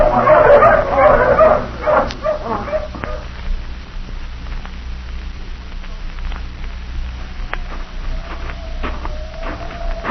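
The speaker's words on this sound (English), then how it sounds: "let the hounds off the leashes" Several hounds bark and yip in a burst near the start as they are let off their leashes, then scattered faint yelps and whimpers continue over a low steady background.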